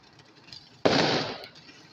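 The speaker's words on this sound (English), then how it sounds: "I can hear a big firework here." A big Bonfire Night firework explodes at a distance, one sudden loud burst that lingers as a half-second rumble before fading back to quiet background.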